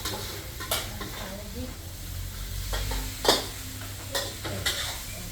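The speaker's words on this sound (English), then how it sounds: "And now you mix it with the sauce." Pad see ew noodles with kale are stirred through sauce in a hot pan, sizzling steadily. A utensil scrapes and clinks against the metal now and then.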